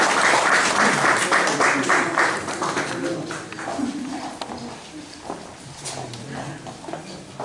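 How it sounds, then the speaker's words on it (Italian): An audience at an Italian cultural event breaks into applause, loud at first and then thinning out into scattered claps and room noise. "Un applauso."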